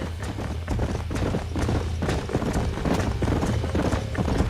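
Rapid, continuous hoofbeats of a herd of horses galloping in Red Dead Redemption, a dense drumming rhythm that stays loud and steady throughout, with no talking.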